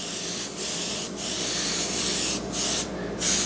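Several loud bursts of airbrush spray hiss over a stencil on a cake top, each lasting under a second with short pauses between, close to the mic.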